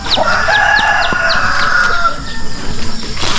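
Chickens cluck and a rooster crows on a farm where the flock is fed yellow corn, with sharp repeated calls and a drawn-out crow rising over a steady barnyard bustle at close range.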